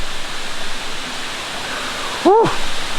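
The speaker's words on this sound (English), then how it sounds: "it is time to say goodbye to this beautiful waterfall" Waterfall in Taiwan giving off a steady, close, full rush of falling water throughout, with a brief vocal exclamation rising over it near the end.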